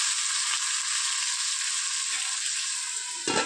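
Cluster beans (guar) frying in hot oil with garlic-ginger paste give a steady, close sizzle and crackle that runs without a break, with a brief stir or clatter near the end. No one speaks.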